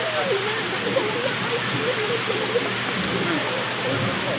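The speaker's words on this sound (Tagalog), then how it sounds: "Malakas ang ulan dito, malakas." Heavy rain pours in a steady, dense hiss throughout, with faint background noise layered over the downpour.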